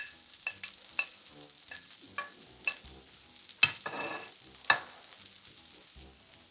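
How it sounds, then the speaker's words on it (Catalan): Potato straws for pork burgers frying in very hot oil on the second cooking, a steady soft sizzle under scattered sharp clicks and stirring knocks from a utensil, close and moderately quiet. "les posem aquí a fregir"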